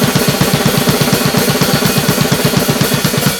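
Fast gravity blast beat on an acoustic drum kit, a dense, rapid stream of even snare and kick hits with cymbal wash over the top, steady and loud throughout with no talking.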